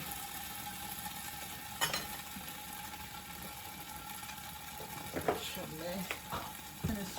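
Sesame chicken stir-frying in a pan over a low flame gives a steady, soft sizzle throughout, broken by a few spatula scrapes and clacks near the start and toward the end, with no talking.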